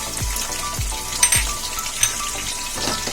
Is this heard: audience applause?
no